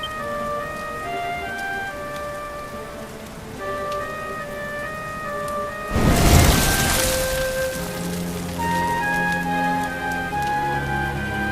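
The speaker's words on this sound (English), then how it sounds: "Looks like the rain's dying down" Rain falling in the video game Dragon Quest XI, a soft steady patter under sustained musical tones, with a heavy burst of downpour or rumble midway before settling back to a gentle hiss.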